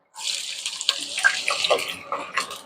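Chopped onion, green pepper and celery dropped into shimmering hot oil in a pot for red beans and rice, starting suddenly with a bright crackling hiss and spitting pops that continue steadily, close and fairly loud, with no talking.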